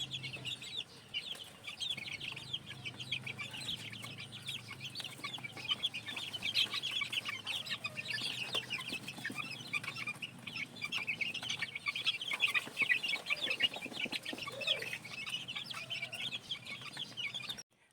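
Young game-farm chicks cluck and peep steadily while scrambling to dust bathe in sand, a busy, continuous chorus of small bird calls close by with soft scratching underneath.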